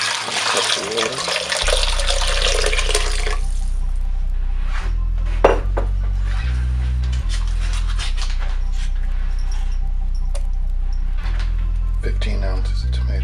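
Water poured from a container into a slow cooker while making chili, a loud splashing rush in the opening seconds that cuts off, followed by background music.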